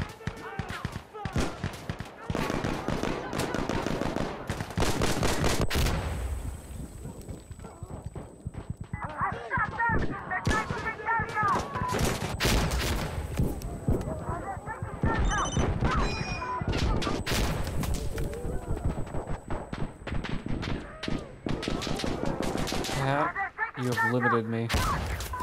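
Gunfire in the shooter Insurgency: Sandstorm, rapid dense shots rattling almost continuously and loud throughout, with other game sounds and a voice speaking over it.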